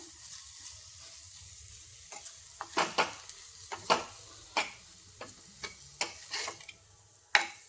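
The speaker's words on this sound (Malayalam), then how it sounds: "നന്നായിട്ട് ഇളക്കി കൊടുക്കാം" Taro stem avial stirred in a pan, a soft background sizzle broken by a series of irregular scraping and tapping strokes of a spoon against the pan.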